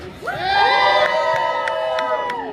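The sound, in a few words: crowd cheering for a barbershop quartet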